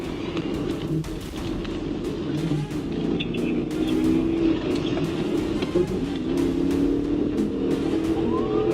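A sedan accelerates hard during a high-speed police pursuit, its engine droning loud and steady with rising and falling revs and road noise over several seconds.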